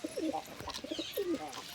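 A pigeon near its nest of newly hatched chicks gives several soft, rolling coos in a short run of calls, close to the listener, with faint background noise and no speech.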